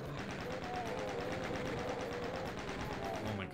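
Rapid chaingun fire from chaingunner enemies in DOOM II, a dense stream of shots that runs continuously at steady loudness with a game tone droning underneath.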